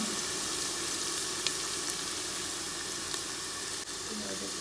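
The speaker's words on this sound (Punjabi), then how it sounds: "ਤੁਸੀਂ ਦੇਖ ਸਕਦੇ ਹੋ ਕਿਵੇਂ ਪਿਆਜ਼ ਭੁੱਜ ਰਹੇ ਹਨ" Onions fry in oil for kadhi pakora, a dense, continuous sizzling hiss that stays loud and close throughout with only faint clinks, no voices over it.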